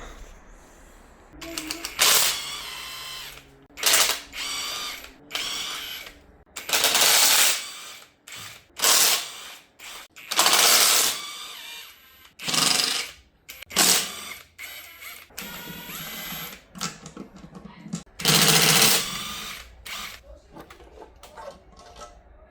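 Power tool whirring in repeated short bursts while fasteners are backed out to lift the tappet cover off a 1.8T 20V AGU engine, each burst loud and close with quiet gaps between.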